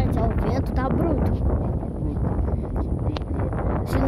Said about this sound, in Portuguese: já o vento tá bruto